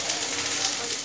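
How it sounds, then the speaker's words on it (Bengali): Potatoes and onions fry in a pan, giving a steady, close, loud sizzle that runs without a break. "আমার এই আলু আর পেঁয়াজটা ভাজা প্রায় হাফটা হয়ে গেছে"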